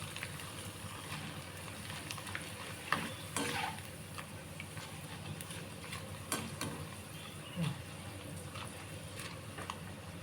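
Homemade potato wafers fry in oil, giving a steady, dense sizzle and hiss. A few light clatters and stirs come through, with no one speaking.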